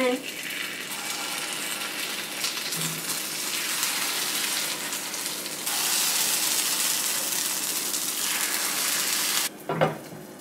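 Paddu batter poured into an oiled paddu pan sizzles and fries, a steady hiss rising louder midway, with a brief metallic clink near the end and light speech at the start.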